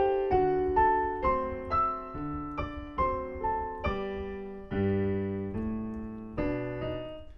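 A solo piano plays a ragtime passage of Scott Joplin's The Entertainer, with a steady bouncing rhythm of clear, struck notes and bass chords, close and moderately loud with no talking.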